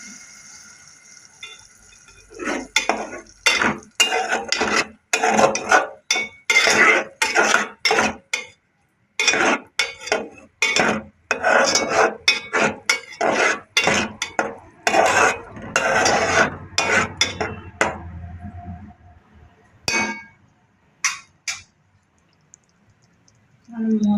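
A ladle stirs curry in a metal pot, giving a long run of close, irregular scraping and clinking strokes that thin out to a few scattered knocks near the end, with no talk.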